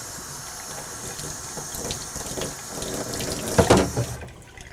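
Water runs from a tap into a small measuring cup during home wine brewing, a steady close splashing stream that rises in pitch and gurgles as the cup fills, then stops.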